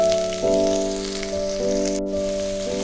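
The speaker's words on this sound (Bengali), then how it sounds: "আদাটাকে ভালোভাবে ভেজে নেব" Grated ginger fries in mustard oil with a continuous soft sizzle, heard close under steady sustained tones that shift pitch a few times.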